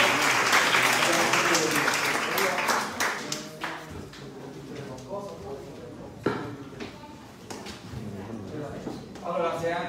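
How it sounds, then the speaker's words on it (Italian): An audience at an awards ceremony for young local achievers in Pomigliano d'Arco applauds, loud dense clapping at first that thins into scattered claps, with voices talking over it. "Facciamo un applauso ancora per tutti."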